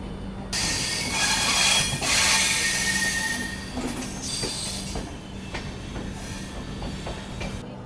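The Banaras–Visakhapatnam Express pulls out of Varanasi Junction, heard from on board as a loud rumble of rolling coaches with shrill wheel squeals and rhythmic clatter over rail joints, easing slightly as it goes, with no talk.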